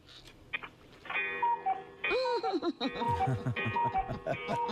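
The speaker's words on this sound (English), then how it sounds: "That's Fred's sound effects machine is on the phone." A sound effects machine plays a tinny, chiming electronic tune over a phone line during a radio talk show, with voices speaking over and between the melodic beeps.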